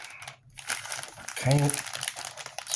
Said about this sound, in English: that's a 2-part plastic bag there if it's made like the others are